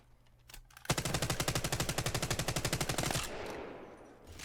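A semi-automatic weapon in the Apex Legends shooter fires in a fast, even string of about twenty loud shots lasting a couple of seconds, then stops, with no talk.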